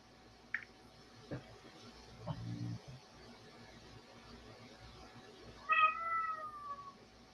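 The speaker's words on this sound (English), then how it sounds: "That was a cat." A cat meows indoors, a short faint call early and a clearer drawn-out meow near the end, over quiet room noise with a few soft knocks.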